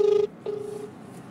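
A telephone call rings unanswered, two short tonal ring pulses heard close and clear through a handset, with a faint hum between and no talk.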